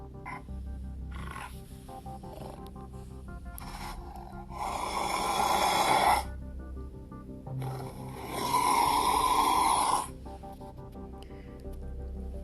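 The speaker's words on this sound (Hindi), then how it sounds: "फिर मुझे समझ में आया कि ये दादी के खर्राटे हैं।" A grandmother's loud snoring in a room at night, rough and growl-like, in two long swelling bursts of heavy breathing separated by quieter inhalations.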